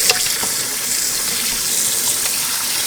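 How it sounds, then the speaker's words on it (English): Kitchen tap water runs steadily into a sink while corn is rinsed for elote, a constant close splashing gush with a few small clatters at the start. "I'm going to go rinse the corn."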